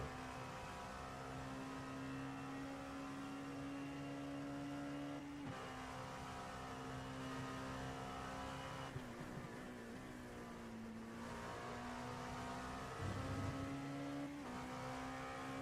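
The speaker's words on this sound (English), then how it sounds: "inside of the cockpit of one of these LMP2 machines here tonight at Road America" LMP2 prototype race car at night at Road America, heard from the cockpit on a lap: a loud, steady engine drone that dips and climbs through a few gear shifts, continuous throughout with no talk.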